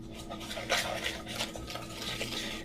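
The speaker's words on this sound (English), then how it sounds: "All right, so I will mix this in." Banana nut muffin batter being mixed by hand in a bowl, giving faint, soft scraping and stirring strokes in uneven bursts against a quiet background.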